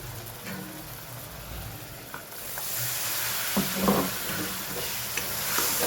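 Tomato is added to a masala of coriander-cumin frying over a full gas flame for chole gravy, giving steady close sizzling with scraping stir strokes that grow louder and busier partway through.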